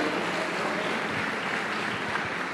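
A church congregation claps in continuous, dense applause, a steady wash of many hands held at an even level from start to finish, with no talking.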